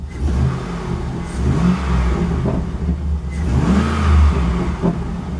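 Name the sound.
Chevy SSR engine running and revving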